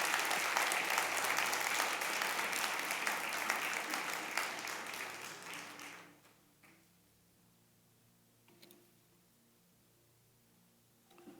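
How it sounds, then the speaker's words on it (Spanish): A church congregation claps loudly together during a sermon, a dense sustained burst of applause lasting about six seconds before dropping off into near silence with a few faint knocks. "Dale un aplauso al Señor porque es maravilloso."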